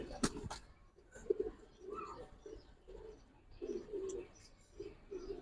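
Giribaz silver pankhi pigeons give soft, low cooing phrases that repeat several times, with brief clicks and rustles at the start, heard fairly close at low volume.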